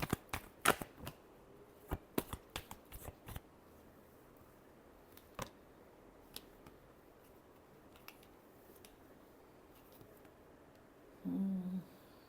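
Tarot cards are shuffled by hand in a quiet room, giving a quick cluster of soft, crisp snaps near the start, then a few isolated taps fading into near silence.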